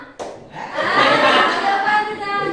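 A group claps together in a classroom clap chant while voices chant along, with a sharp opening clap followed by a dense, close burst of rhythmic hand claps.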